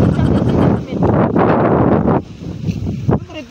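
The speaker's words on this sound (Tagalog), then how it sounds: "Lakas pala ng hangin dito eh." Strong gusts of wind buffet the microphone in loud rumbling bursts that ease off toward the end.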